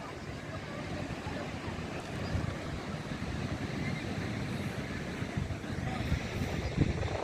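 Sea waves and wind at the seashore make a steady, broad roar of surf with gusting wind noise buffeting the microphone, swelling slightly louder toward the end, with no clear voices.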